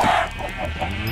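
Chickens clucking in the Minecraft video game, a short burst of game fowl sounds over faint background noise, with no talk.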